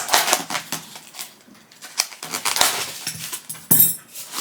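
A Temu parcel is opened, with rustling, crinkling plastic and paper and irregular tearing and handling noises close by, without speech.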